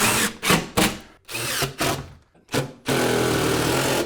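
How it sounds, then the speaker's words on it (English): A power drill drives screws into a drywall wall being prepared for tile, with several short whirring bursts in quick succession followed by one longer, steady run, close and loud. "we're going to add screws above and beneath as well"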